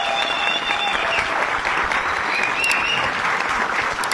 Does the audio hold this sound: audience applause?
yes